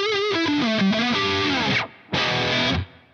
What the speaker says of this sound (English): Let's have a listen to what happens when we turn the hall reverb on without the delay.